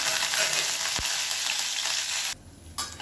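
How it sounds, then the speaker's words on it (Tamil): Curry leaves fry in hot oil after dried turkey berries, producing a dense, close sizzle that breaks off abruptly near the end and then briefly returns. "கருவேப்பிலை நல்லா வறுபட்டுருச்சு"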